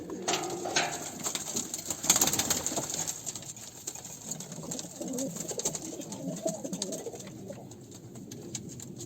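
Pigeons or doves coo in a soft, continuous chorus, with other bird calls and a busy rustling backdrop throughout.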